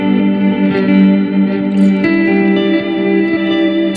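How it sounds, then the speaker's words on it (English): An electric guitar runs through an EarthQuaker Devices Avalanche Run pedal, reversed notes washing into reverb as loud sustained chords with softened, swelling attacks and no talking. "now you have that reverse stuff going into a reverb, so it's reverbing the reverse sounds"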